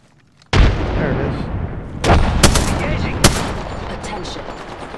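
A frag grenade blast followed by bursts of gunfire in a first-person shooter video game: a loud sudden boom, then several sharp shot peaks over a dense, rumbling battle din.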